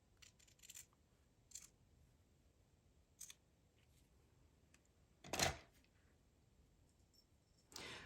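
Scissors trim vellum for a handmade layered card, a few quiet, sparse snips with one louder sharp cut near the end, set against a near-silent room.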